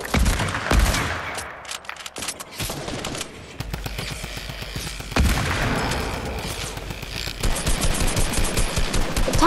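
Tommy gun fire in Fortnite comes in bursts of rapid automatic shots, loud and near, broken by a brief lull before sustained rattling volleys resume and build toward the end, with no talking.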